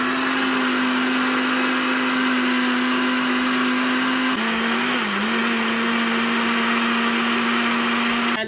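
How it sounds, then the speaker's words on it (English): Blender pureeing spinach for Ghanaian light soup, a loud steady high-pitched motor drone that dips briefly midway then resumes, running throughout with no talking. "I have my spinach here that I'm going to start blending it."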